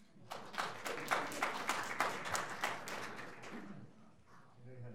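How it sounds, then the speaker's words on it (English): A modest crowd at a county commissioners' swearing-in ceremony gives a brief round of clapping, individual claps distinct and rhythmic, swelling then fading within a few seconds. "insert applause here"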